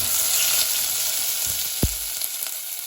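Onions frying in a pan for a Goan moong curry, a loud, steady close sizzle that holds throughout with a brief knock of a utensil partway through.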